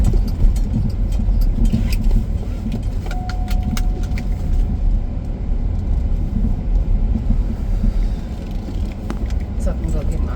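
A car drives along a road on a cloudy Fourth of July around noon, a steady low engine rumble and road noise from inside the vehicle, with faint clicks and jingles over it.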